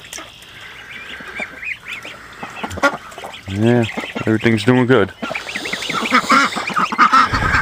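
Geese honk loudly and repeatedly close by in a vegetable garden, with other fowl clucking around them, and someone speaks briefly toward the end.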